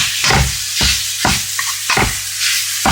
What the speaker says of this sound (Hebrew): אני מוסיפה בשר בקר טחון שפוררתי אותו לפני שאני מוסיפה אותו למחבת